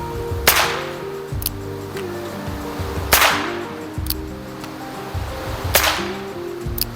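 Homemade percussion caps fired in a gun, three sharp, loud cracks spaced a few seconds apart, each followed by a short ring, over a low, steady background rumble.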